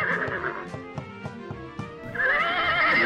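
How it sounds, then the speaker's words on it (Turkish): A toy horse in a doll farm playset whinnies loudly at close range, a shrill rising and falling call, with a second longer neigh following after a brief pause. "Bu at sesi."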